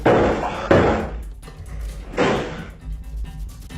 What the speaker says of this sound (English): When he shuts the door again, a loud banging is repeatedly heard.